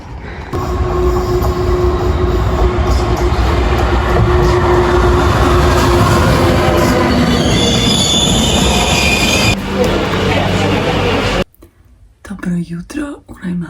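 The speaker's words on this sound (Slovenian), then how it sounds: "In čakamo, da pride vlak mimo." Train rolling past near a beach, loud and close with squealing wheels and a rushing rumble over many seconds, then cutting off abruptly to a quieter scene with faint speech.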